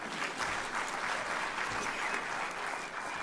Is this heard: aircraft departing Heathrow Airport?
no